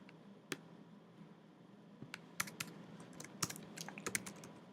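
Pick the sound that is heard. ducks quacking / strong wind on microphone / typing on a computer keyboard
typing on a computer keyboard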